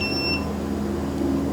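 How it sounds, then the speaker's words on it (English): A short, high electronic beep chirps near the start, likely from a cheap Tuttio e-bike being upgraded, then fades into a steady low background hum. "what just beeped? You heard that?"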